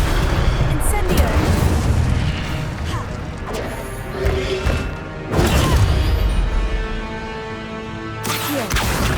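In Hogwarts Legacy, the Incendio fire spell bursts out in loud, crashing blasts of flame with heavy booms, repeated several times, with a voice speaking between casts.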